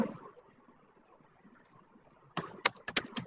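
Feedback text is typed on a computer keyboard in a short burst of sharp, close key clicks near the end, following a stretch of faint room noise.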